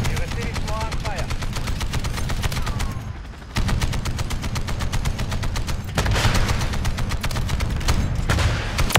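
Small arms gunfire in Call of Duty Modern Warfare 3 multiplayer, rapid continuous automatic bursts in a dense rattling rhythm, loud and close with a brief lull partway through.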